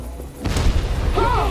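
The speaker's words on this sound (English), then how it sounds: "explosion looked significantly less impactful or exciting than it did in the original." In the video game Dead Rising, a short, loud explosion booms with a dull low thud and brief crackle, and a voice briefly overlaps its tail.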